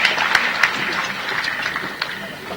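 Audience applause welcoming the Home and Cooperation Minister at an Ahmedabad event, dense steady clapping from a large crowd with a few sharper claps standing out, fading slightly toward the end.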